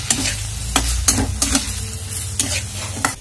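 Green leafy vegetables and moong dal are stirred in a hot pan, a spoon scraping in several sharp strokes over a soft, continuous sizzle, close and fairly quiet.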